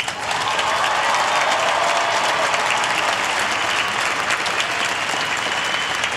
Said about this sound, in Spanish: Agradezcámosle a Jesús con otro fuerte aplauso.